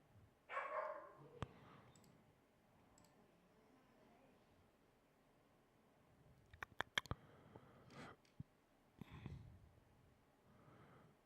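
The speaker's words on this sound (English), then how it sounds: "my dog is popping off" A pet dog barks a few times, faint and somewhat distant, amid quiet room noise with occasional clicks and a snort-like sound.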